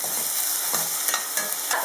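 About four medium onions, finely chopped and salted, fry and sizzle steadily in a pan on the stove, with occasional stirring scrapes rising over the constant hiss, loud and close.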